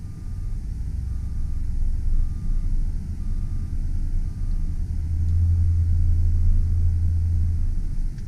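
A 2001 Chevrolet Silverado 2500 utility-body work truck idles and rumbles in reverse, its low engine drone steady throughout with a faint, regular reversing beep pulsing over it.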